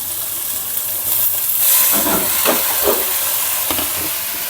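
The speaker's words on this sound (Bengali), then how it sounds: "সুন্দর করে ভেজে নিব পাতাকপি একটু তেল বেশি করে দিয়ে ভাজি করলে" Shredded cabbage frying in a generous amount of oil hisses and sizzles steadily up close, with a few clattering stirs in the middle.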